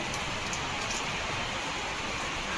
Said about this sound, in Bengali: আজকে সকালে বৃষ্টি হচ্ছে, 5টার সময়ও বৃষ্টি হয়েছিল, আর এখন সকাল 9টা, এখনও বৃষ্টি হচ্ছে।